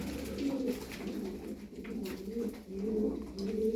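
Twelve pigeons coo in low, rolling calls, several overlapping and repeating steadily, fairly close with a soft background hum.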